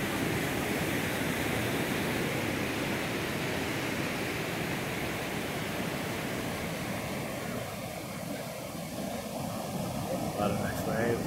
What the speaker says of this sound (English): A lot of nice waves.